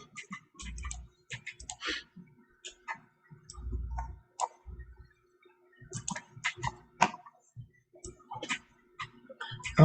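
A stylus tapping and scraping on an iPad screen in quick, irregular clicks and short strokes, close and fairly crisp, with a few brief low thumps mixed in.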